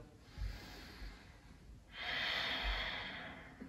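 Slow, deep breathing during a yoga session: a soft inhale, then a long, audible, airy exhale close to the microphone, with faint thumps underneath.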